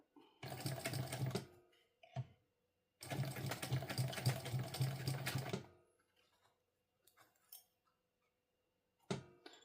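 A sewing machine stitches a sling bag in two long, close, rattling bursts separated by a pause, then a few brief needle taps and short runs, with no voices.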